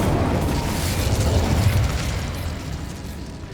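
Fiery spell explosions from Confringo and Incendio in Hogwarts Legacy, a loud, continuous burst of whooshing flame and rumbling booms that slowly fades, with no talking over it.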